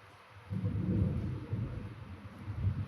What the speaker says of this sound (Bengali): তাই হয়তো একটু মেঘের গর্জন বা বৃষ্টিপাতের আওয়াজ শোনা যাচ্ছে